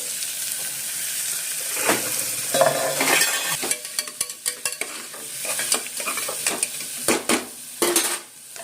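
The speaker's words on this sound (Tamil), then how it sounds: "பூண்டை போட்டு அதுக்கப்புறம் கட் பண்ணி வச்சுருக்க வெங்காயம், இதெல்லாம் போட்டு நல்லா வதக்கிக்கலாம்" Garlic and chopped onion sautéing in a pan for keerai (spinach) rice, with a steady sizzle under repeated clanks and scrapes of a spoon stirring against the pan, close and fairly loud, no talking.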